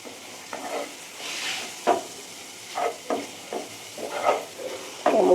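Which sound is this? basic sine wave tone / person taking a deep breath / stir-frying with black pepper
stir-frying with black pepper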